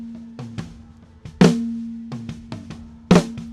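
A few sharp snare drum hits, unprocessed by dynamic EQ, with a lingering tonal ring after each, two strikes louder than the rest, with softer taps between.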